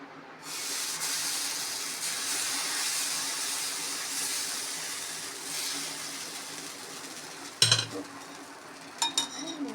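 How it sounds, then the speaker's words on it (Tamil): Kal dosa batter spreads onto a hot stone griddle and breaks into a steady, close sizzling hiss that holds for several seconds, followed by a sharp clatter of utensils and a few light knocks near the end. "கல் நல்லா பாஞ்சிருச்சு மாவு ஊற்றுறேன்"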